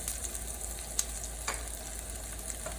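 Shallots fry in a warm pan with a faint, even sizzle and scattered small pops and stirring taps, quiet and close with no talk over it.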